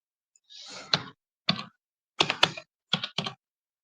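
Bengali text being typed on a computer keyboard in AutoCAD, heard as short bursts of close, crisp key clicks separated by pauses, with no talk.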